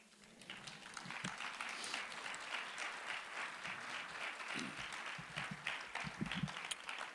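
A crowd at a community MLK breakfast event claps in a steady, dense wash of applause that swells and holds for several seconds, with a few scattered cheers rising near the end.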